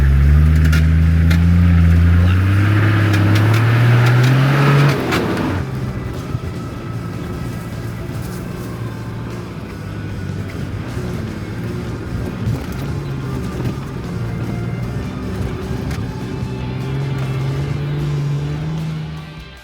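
An off-road expedition vehicle shifted into low range on a trail ascent: a loud engine strains and revs for several seconds, then drops to a lower, steady grinding drone as it crawls on, with occasional rattles.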